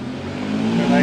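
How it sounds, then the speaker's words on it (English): Ferrari sports car on Robson Street, its engine swelling louder in a brief rising growl as it approaches and passes nearby, with city street noise underneath. "Oh, we got a Ferrari here."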